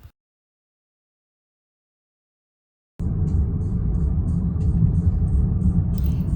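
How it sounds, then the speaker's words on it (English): A car drives into a canyon near Amarillo, Texas, heard after three seconds of silence as a steady, close, low engine and road rumble that continues to the end. "Here I am driving into the canyon."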